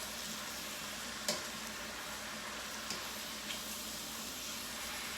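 Mushroom ragout sizzles steadily in a pan as it is stirred, a constant frying hiss with a few faint clicks of the utensil against the pan.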